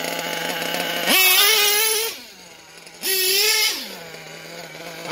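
Engine revving through a JP-2 mid-range exhaust, rising in two loud, close blips that each hold briefly before dropping back to a steady idle, with no voices.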